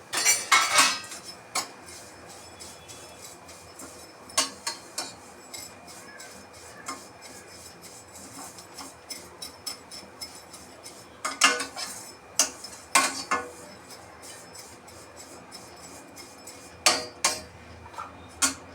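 Vermicelli roasting in hot ghee in a kadhai, heard as scattered light metallic clinks and scrapes of a spoon in irregular bursts with quiet pauses, close but faint, no speech.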